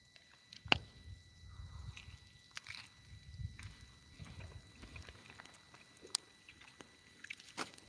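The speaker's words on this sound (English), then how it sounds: "I don't know if you can hear me eating, but you can hear it crunching." Someone eats crunchy food beside a campfire, giving a run of quiet, close crunches and bites spaced irregularly, with scattered sharp clicks over faint background noise.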